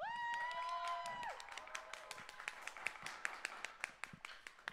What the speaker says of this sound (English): Can I have all of our Taiko people give a round of applause?